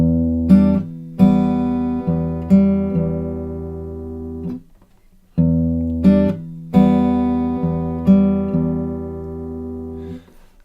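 An acoustic guitar plays the third bar of a pop ballad, with plucked notes and struck chords in a steady rhythm. The bar is heard twice, with a short pause between the two runs.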